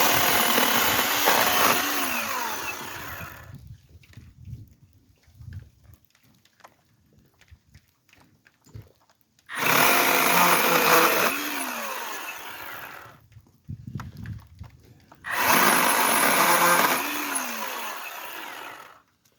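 Ryobi ONE+ HP 18V brushless 10-inch chainsaw with manual oiler cutting through a log: three loud, close bursts of high-pitched motor whine and chain rasp, separated by quieter pauses with small clunks.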